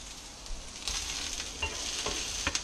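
Peppers frying in a pan during home cooking, a steady close sizzle with occasional stirring scrapes and small pops, no voices.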